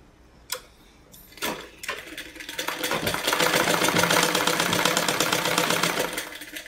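A sewing machine stitching a blouse starts with a few separate clunks, then runs into fast, even rattling stitches that hold steady and loud for several seconds, close by with no talk.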